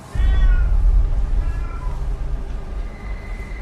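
A cat's meowing in an Indonesian TV show about a cat spirit: one long, loud, drawn-out wailing meow, then a few fainter meows over a steady low rumble.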